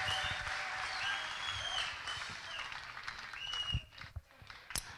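Congregation at an Ethiopian worship service claps together, a sustained wash of applause under a voice and background music, thinning out toward the end with a few sharp individual claps.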